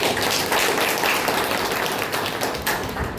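Audience applause at a blood donation camp held at a Prajapita Brahma Kumaris centre, a dense, steady clapping from a crowd that continues throughout.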